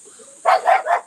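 Several dogs bark in three loud, close bursts after a faint quiet stretch, heard in a rural yard in the Philippines.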